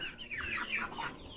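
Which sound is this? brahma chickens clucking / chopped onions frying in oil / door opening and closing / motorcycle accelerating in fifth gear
brahma chickens clucking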